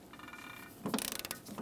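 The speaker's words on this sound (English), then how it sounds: "go ahead and snug up your mounting hardware and then torque it to 22 foot-pounds" A torque wrench tightens the mounting hardware of a front lower door hinge on a 2003-2011 Mercury Grand Marquis, making a faint, brief burst of close mechanical clicks and a ratchet-like rattle.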